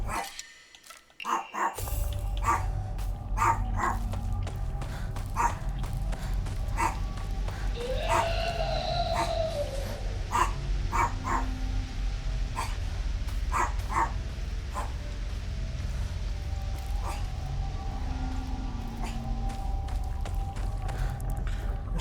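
A dog barks repeatedly in the Silent Hill f video game, sharp separate barks scattered through a dark ambient background, with a brief louder burst at the start.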